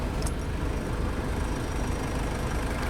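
A Komatsu WA100-5 wheel loader's four-cylinder turbocharged engine idles with a steady, low, even rumble that holds constant throughout, heard alone without voices.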